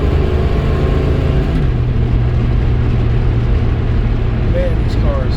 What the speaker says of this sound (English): this is a 71 Chevelle. And it does, it absolutely rips.